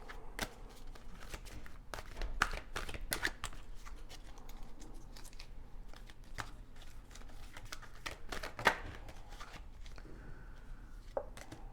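Oracle cards being shuffled by hand, a quiet run of crisp riffling and snapping card sounds in irregular bursts, close and soft with no talking.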